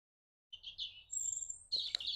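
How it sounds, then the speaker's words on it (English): Birds sing in a garden, a few clear chirps and short whistled phrases arriving one after another at moderate distance over an otherwise quiet background. "The birds are singing beautifully."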